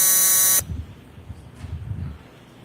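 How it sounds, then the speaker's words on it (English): Loud harsh electronic buzzer blaring for about half a second, then cutting off abruptly to quiet low rumbling background. "play the buzzer sound for 10 seconds."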